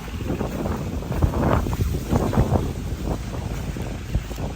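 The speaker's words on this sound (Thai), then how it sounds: "ลมหนาวพัดมา" Cold wind gusts steadily and close at an outdoor spot where a stage is being set up, buffeting the microphone with broadband roaring and rumbling throughout, with no talk.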